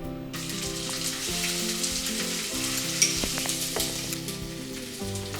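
Mango paste sautéing in oil for a mustard fish curry with green mango, a steady close sizzle with light stirring clicks and one sharp clink, over background music.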